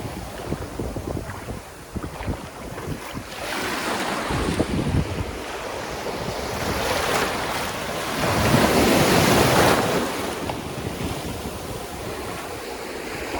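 Ocean surf rolling onto a beach, a steady roar of waves swelling louder toward the middle and end, with wind buffeting the microphone.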